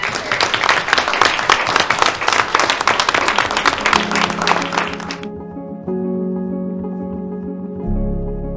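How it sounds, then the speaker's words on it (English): An audience gives a dense, sustained round of applause for a group of presenters, loud and close for about five seconds, then cuts off abruptly into quiet tonal background. "Can I say maybe just one more round of applause for all of our presenters?"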